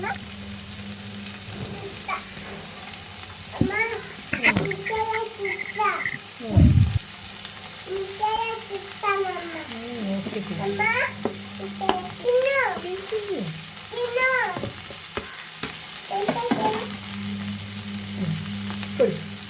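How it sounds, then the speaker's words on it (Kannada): Onions and mixed vegetables fry in a pan for shavige uppittu, a vermicelli upma, with a steady sizzle and occasional stirring scrapes beneath near, continuous voices or melodic sound throughout. "ಆನಿಯನ್ ಎಲ್ಲ ವೆಜಿಟೇಬಲ್ಸ್ ಹಾಕೊಳ್ಳೋಣ ಹಾಕ್ಕೊಂಡು ಚೆನ್ನಾಗಿ ಫ್ರೈ ಮಾಡ್ಕೊಳ್ಳೋಣ"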